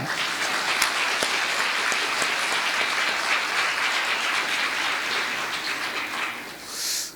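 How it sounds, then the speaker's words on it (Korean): Steady applause from a congregation at a Won Buddhist Sunday service, dense and continuous, fading out near the end. "박수 한번 쳐주십시다"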